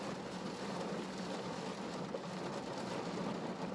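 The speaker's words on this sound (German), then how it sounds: "Wenn man im Auto sitzt und der Regen prasselt aufs Auto." Rain pattering on a car heard from inside, a soft, steady hiss of drops on the roof, fairly quiet and unbroken, with no voices.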